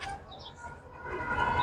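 Local Giribaz pigeons from Rajshahi coo softly against a busy, noisy background, with scattered chirps mixed into a low steady murmur that swells slightly toward the end.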